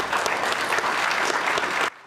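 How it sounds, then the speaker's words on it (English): Family, friends and fellow soldiers applauding at a Purple Heart ceremony for a veteran, loud dense clapping held steady, then cut off abruptly near the end. "As family, friends, and fellow soldiers rose to their feet in applause"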